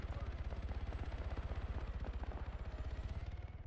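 Steady, rapid thumping of helicopter rotor blades in Arma 3, a regular pulsing chop that holds constant throughout at moderate volume.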